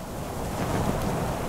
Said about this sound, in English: A gust of wind blows in